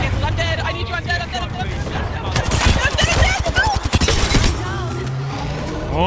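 Rapid bursts of automatic gunfire in the Apex Legends video game on Xbox Series X, loud sustained volleys with sharp individual shots, amid game effects and an overlapping voice.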